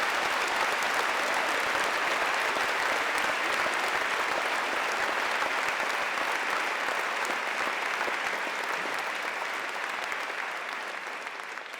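An audience in Sioux Falls claps steadily throughout, a dense, sustained ovation that stays strong and eases slightly near the end, with no voices over it.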